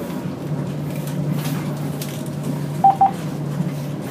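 Two short, distinct telephone keypad tones sound close together partway through, over a constant low hum and background rumble, with no talking.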